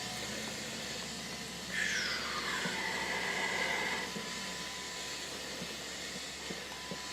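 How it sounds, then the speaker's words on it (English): A powder coating gun sprays black wrinkle powder coat onto a 3D printer frame brace as a steady close hiss, slightly louder for a couple of seconds mid-clip, over a constant low electrical hum. "So we got black powder coat coming on there."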